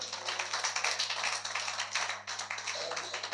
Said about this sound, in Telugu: చప్పట్లు కొట్టండి యేసయ్యకి గట్టిగా.